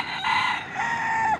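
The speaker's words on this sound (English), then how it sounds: "there's a rooster behind me" A rooster crows loudly and close by in the Piñones neighborhood of San Juan, Puerto Rico, one long drawn-out cock-a-doodle-doo call heard alone.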